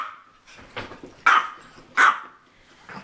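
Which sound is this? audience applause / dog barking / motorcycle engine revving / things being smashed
dog barking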